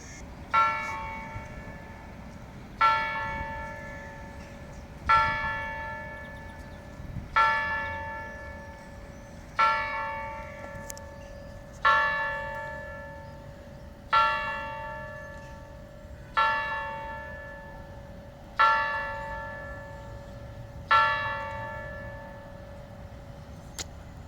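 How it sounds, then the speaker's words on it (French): Orthodox church bells strike the noon hour in Chișinău, Moldova, about a dozen slow, evenly spaced strokes, each ringing out and fading before the next, distant and clear over quiet street ambience. "J'ai toujours été frappé par la tonalité particulière des cloches dans les pays orthodoxes."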